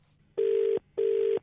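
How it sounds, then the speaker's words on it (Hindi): Two evenly spaced ringback tones sound as a phone call is placed, each a steady electronic buzz lasting under half a second, clear and alone. "फोन मिलाओ।"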